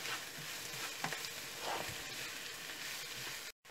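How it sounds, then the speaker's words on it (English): Chopped chilies, ginger and garlic sizzle in a pan with lightly fried onions, a steady dense crackle of frying with a few soft stirring scrapes, close and continuous, cutting out briefly near the end. "Now I'm going to add the chopped chilies, ginger, and garlic, and fry for about"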